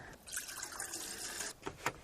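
Two cups of water are poured into a pot for a Knorr side dish at a backpacking camp stove, giving a soft, steady splashing trickle that ends with a few faint drips and knocks.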